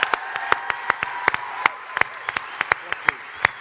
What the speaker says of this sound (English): What an amazing job. A big, huge applause.